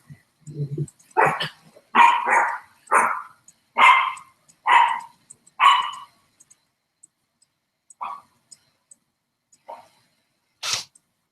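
Dogs let out downstairs bark in a run of about seven sharp, close barks spaced roughly a second apart, followed by a few scattered, quieter barks and clicks after a pause.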